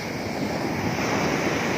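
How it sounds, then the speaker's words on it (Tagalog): Heavy ocean surf roars steadily and loudly, a thick continuous wash of breaking waves with wind buffeting the microphone. "kita nyo guys Ah, lakas ng alon yan"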